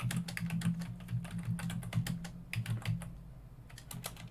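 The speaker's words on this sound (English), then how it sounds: "I was just typing at you" Rapid typing on a computer keyboard, a steady close clatter of key presses in irregular bursts, pausing briefly before resuming, with no talking.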